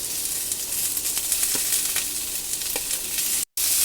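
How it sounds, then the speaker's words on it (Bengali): Carrot, potato and beans are stir-fried in a pan, giving a loud continuous sizzle with faint scrapes of the spatula throughout and a brief dropout near the end, heard up close with no speech. "গাজর আলু বিনস ভালো করে নাড়াচাড়া করে ভেজে নিয়েছি"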